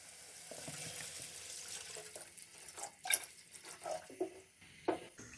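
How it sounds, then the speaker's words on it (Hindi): Water poured from a container into fried masala in a cooking pot for chicken egg biryani, a soft running splash with some bubbling and a few louder sloshes near the end, close by and without talk. "अब हम इसमें 1 लीटर पानी डालेंगे क्योंकि चावल हमारे ½ kg है।"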